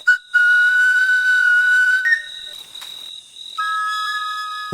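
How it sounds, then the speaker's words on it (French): Wooden hunting whistle, used by hunters to signal one another: sustained, piercing whistle tones that hold steady, break briefly, then shift to a new pitch, loud and close with no voices. "le sifflet de bois, tenu pour magique, sert au chasseur à communiquer avec ses semblables"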